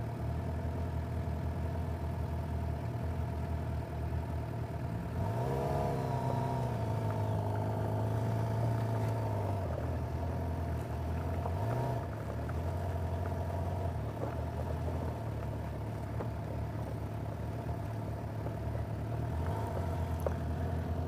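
A Suzuki GSX-R750 sport motorcycle engine runs steadily through a demo ride, holding a low droning note with a brief rise in revs partway through, loud and continuous with no talking.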